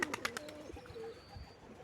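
Pigeons cooing softly nearby, a few low throaty calls with faint flutter and rustle in the background.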